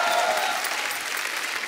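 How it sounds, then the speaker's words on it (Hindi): A studio audience at a comedy talk show breaks into dense, loud applause, a brief continuous burst of many hands clapping together with no voices over it. "सबके लिए जोरदार ताली"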